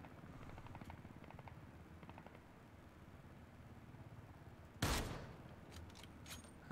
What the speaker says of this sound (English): I hear them firing away.